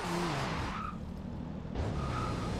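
A car engine revs as tires skid and squeal in a long drift in the video game Forza Horizon 2, loud and close, with a second screech near the end; the car is a Toyota Supra.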